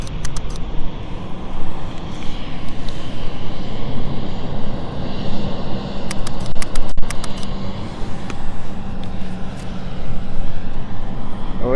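A training-flight aircraft rolls along the full length of the runway at London City Airport, its engine giving a loud, steady roar that swells and eases slightly, with a few faint clicks over the top; no talking.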